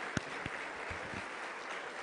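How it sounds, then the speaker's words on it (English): An audience at a real estate luncheon gives a round of applause, heard as a faint, steady wash of clapping with a couple of sharper claps near the start. "Give me another round of applause."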